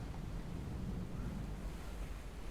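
Blaring wind and crashing waves at sea in a stormy, foggy setting, a steady, broad roar of wind noise and surf throughout with no voices.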